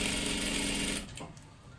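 Sewing machine stitching along the seam of a salwar, a fast mechanical whirr running up close for about a second, then stopping and leaving quieter handling noise.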